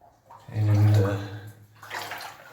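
Water sloshing and splashing as someone wades through a flooded tunnel of an old mine on Mount Karangahake, New Zealand, one heavy surge followed by a lighter splash, close and echoey.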